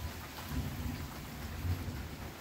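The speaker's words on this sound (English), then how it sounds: "The thunder's still going very quietly" Distant thunder rumbling low and quiet through a thunderstorm, with a steady hiss of rain on surfaces over the whole stretch and no talking.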